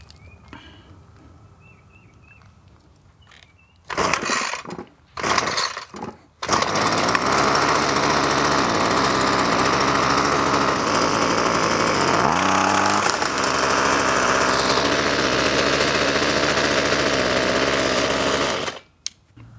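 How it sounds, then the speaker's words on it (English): A Ryobi gas string trimmer being started at half choke: quiet handling, then a few short pull-start bursts that catch, before the small two-stroke engine settles into a loud, steady buzzing run with one brief rev change, then cuts off. "And then pull until the engine starts."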